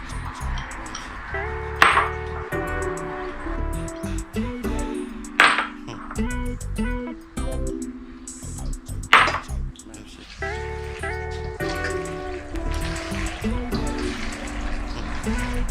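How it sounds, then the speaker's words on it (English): Family-style mac and cheese is tossed in a bowl, giving wet, sticky smacks and slaps in uneven bursts, with a few louder splats and faint clinks along the way. "You know you got something going when you can hear the Mac. You hear it smacking."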